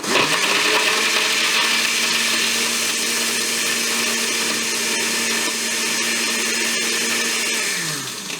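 A loud, steady whirring blender mixing a coffee shake runs continuously, grinding at constant pitch, then winds down slightly at the end; no voices.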